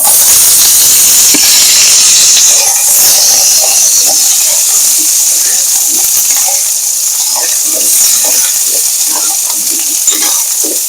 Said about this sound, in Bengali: আগে আমি ডাঁটাটা একটু ভেজে নিচ্ছি। এর সঙ্গে বেগুনটাকে আমি একটু ভেজে নেব লাল করে।